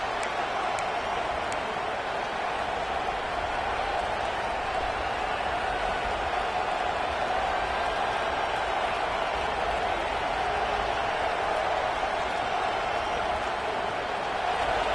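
Stadium crowd at a football game, roaring steadily and loudly throughout as the defense lines up for a red zone stand, a dense continuous wash of many voices with no single speaker standing out.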